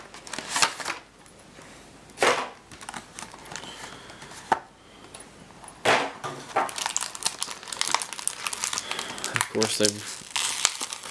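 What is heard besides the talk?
tearing open tightly packaged Yu-Gi-Oh booster box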